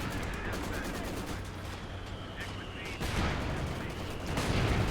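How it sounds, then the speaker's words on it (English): Mortar fire in a 4 vs 4 Company of Heroes-style match rumbles as dense, overlapping booms and distant blasts under constant battle noise, with bursts of gunfire layered through and a heavier salvo near the end. "Mortars? I think I hear mortars."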